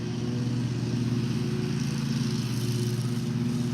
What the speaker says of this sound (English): It may be that lawnmower.